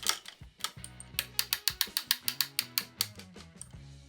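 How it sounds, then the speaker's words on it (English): Shifters being tested on a Trek Skye bicycle during a rebuild, producing a quick, even series of mechanical clicks about a dozen strong with ratcheting underneath, close and clear with no talk. "I'll test the shifters and make sure the cable is fully extended."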